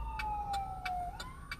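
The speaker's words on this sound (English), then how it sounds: "I'm driving, and there's an ambulance" An ambulance siren heard from inside a moving car while driving: a faint, steady wailing tone that slowly bends in pitch, with soft regular ticks over low road rumble.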